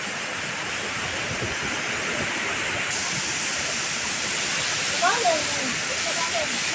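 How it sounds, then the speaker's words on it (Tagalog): Strong sea waves churned up by Typhoon Kristine roar continuously as a steady, loud wash of surf, with a faint voice briefly audible near the end. "Ang lakas pa ng alon."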